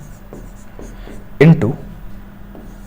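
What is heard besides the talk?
writing numbers by hand during a maths lesson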